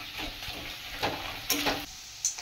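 Ingredients for chholar dal fry quietly in a pan, a soft steady sizzle broken by a few sharp scrapes and stirring clatters near the end.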